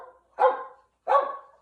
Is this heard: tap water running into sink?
no